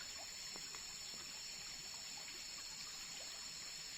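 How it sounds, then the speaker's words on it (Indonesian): Calm water flows and trickles steadily near a tree house, a soft continuous babble with no breaks and a faint high hiss above it, heard at a moderate distance with no one talking. "Suara airnya lebih tenang sih."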